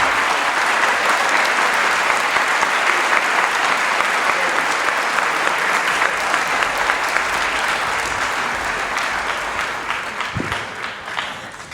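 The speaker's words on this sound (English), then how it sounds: "So give them a big round of applause." A large audience applauds at a performing arts hall of fame induction ceremony in Fairmont, with sustained, dense clapping that holds steady and then begins tapering off toward the end.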